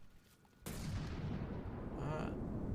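A cram cannon firing in the From the Depths naval combat game, one sudden heavy blast after a quiet moment, followed by a long roaring rumble that holds steady, with a faint whistle near the end.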